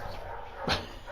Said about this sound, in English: I don't know if you guys can hear the dogs out there barking like crazy.